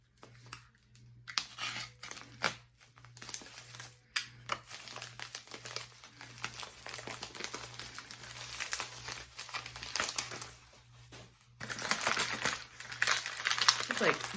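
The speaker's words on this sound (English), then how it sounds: "It's like bubble wrap and then paper." Bubble wrap and paper packaging unwrapped from a box, giving a long run of dense crinkling and rustling with sharper crackles, close and fairly loud, continuing throughout with louder handling near the end.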